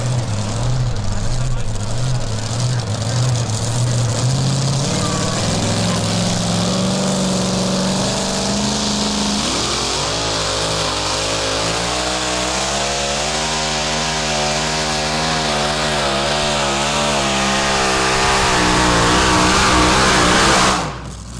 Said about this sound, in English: I just cringe when they go full throttle like that and they just spin and the tire's not really getting hooked up